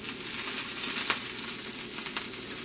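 Onions sizzling and frying in a pan over too-high heat, a steady close crackling hiss that runs throughout with a few sharper pops.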